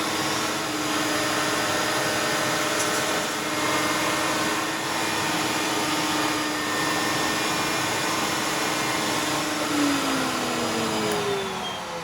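Router with a handmade bit trimming a thin strip of wood off a template edge under dust collection, for a spoiler extension for an MK7 Golf R and GTI; a loud continuous whine and roar holds steady throughout, close by, without speech.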